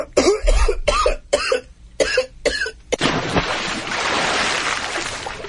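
A burst of harsh, repeated coughing after smoking pot, several close, loud hacks in quick succession on a radio talk show, then giving way to a roaring, rushing noise bed.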